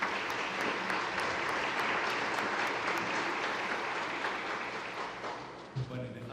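A sustained round of applause at the opening ceremony of the eighth FOCAL conference, a large crowd clapping thickly and steadily before tapering off, with a voice emerging at the very end.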